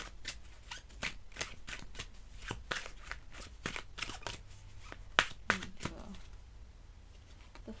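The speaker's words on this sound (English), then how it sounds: "last tarot card for my viewer" Tarot cards being shuffled by hand in a series of quick riffling bursts with soft snaps, close and fairly quiet, with no talk.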